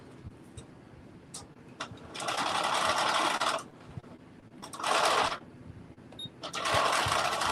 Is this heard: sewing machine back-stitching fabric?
yes